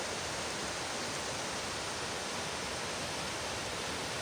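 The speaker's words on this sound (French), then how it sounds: "On a carrément un autre ruisseau." A forest stream gives off a constant, even rush of flowing water, dense and hiss-like, with no pauses or other sounds over it.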